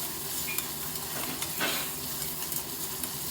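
Onions for a mutton gravy curry sizzle and fry in a pan, a continuous close crackle with occasional stirring scrapes and light utensil taps.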